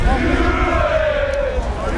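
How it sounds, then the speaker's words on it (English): Spectators at a BUCS Super Rugby match between Cardiff Met and Durham shout and cheer as a sustained roar with a rising call, loud and continuous. "as the crowds try and inject a bit of life into their team"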